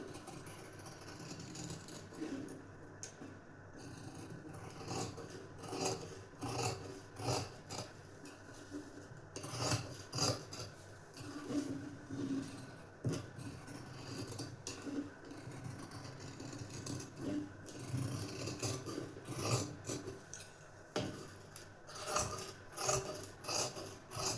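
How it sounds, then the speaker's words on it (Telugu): Scissors cut through blouse fabric along marked lines, including around the neckline, producing a steady run of rasping, crunching snips at close range with no talking. "మార్క్ చేసిన విధంగానే కట్ చేసేస్తున్నానండి నెక్తో సహా కట్ చేసేస్తున్నాను"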